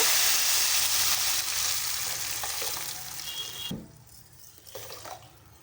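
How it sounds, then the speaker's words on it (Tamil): Dissolved rock salt mixture is poured into sizzling sautéed onions for meen kuzhambu, a loud hissing sizzle that gradually dies down, followed by a few stirring sounds. "இப்போ கரைச்சி வச்ச மிக்சரை இதில் ஆட் பண்ணிக்கோங்க"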